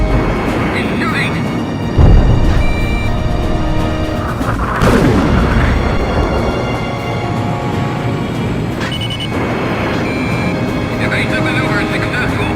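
Enemy gunfire and explosions in the Ace Combat X flight video game, with booming blasts over a constant roar of aircraft engines and music, and a voice speaking throughout.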